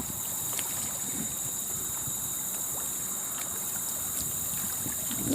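Steady wind rushes across a lake while someone fishes for crappie from a boat. It is a constant, moderate broadband blow with faint ticks and a thin high whine.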